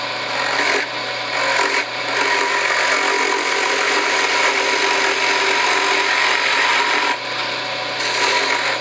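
Skew chisel cutting a wooden pen blank spinning on a lathe: a loud, continuous raspy shaving hiss with brief dips where the tool lifts off, over a low motor hum.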